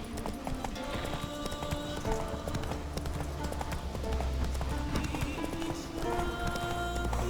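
Hooves pound in a fast galloping rhythm as a horse runs in The Witcher 3 video game, loud and close, steady and continuous, with other game sounds layered underneath.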